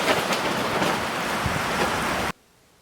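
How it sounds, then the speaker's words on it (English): Freezing rain and gusting wind outside a farmhouse in Louisiana make a dense, loud, hissing roar that holds steady for over two seconds, then cuts off abruptly to near silence. "Freezing rain and then big bursts of wind and then nothing."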